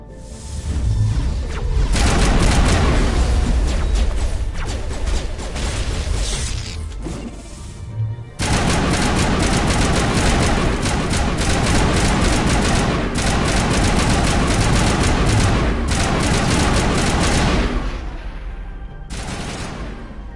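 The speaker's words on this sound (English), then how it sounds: "Always a firefight somewhere." A loud, sustained Mass Effect firefight in the video game, dense automatic gunfire and crashing impacts rattling almost nonstop, with a brief break near eight seconds before the barrage resumes and tapers near the end.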